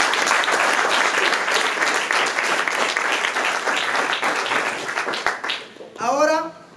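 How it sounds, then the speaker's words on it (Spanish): Crowd applause at a wedding ceremony, loud and steady for about five seconds before tapering off, followed by a brief voice. "Vamos a dar un fuerte aplauso."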